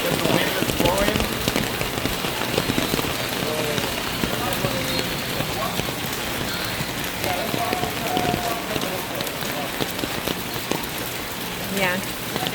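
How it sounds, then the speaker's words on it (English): Heavy rain pours at night on Boracay, a dense, loud, steady hiss of drops on surfaces filling the whole stretch, with faint voices talking underneath. "So maybe let's wait a little bit if the rain is going to stop."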